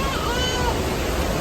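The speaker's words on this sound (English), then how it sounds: "So we're just about to come to the waterfall. It's running good." Strongly running creek pouring over a waterfall at Petit Jean State Park in Arkansas, a steady, dense rush of water that stays constant and fairly loud throughout the brief stretch.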